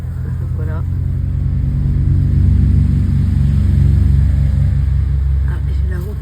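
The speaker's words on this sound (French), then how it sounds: "j'ai la route qui est pas très loin. Donc du coup, on entend les motos, les voitures" Cars and motorcycles passing on a road not far off, a steady low rumble swelling and fading, with a voice speaking briefly near the start and end.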